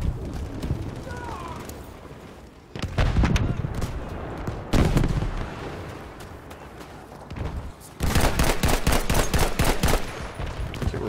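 Gunfire in Battlefield V, with heavy rifle shots, booming blasts and a rapid automatic burst near the end, dense and loud, mixed with a player talking over the action.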